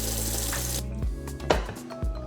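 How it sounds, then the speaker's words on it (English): Running water pours and splashes as a mason jar of sprouting radish and kohlrabi seeds is rinsed and drained, a steady flow followed by a few sharp clinks and drips, close and without voices. "we give the seeds a good rinse before draining all excess water"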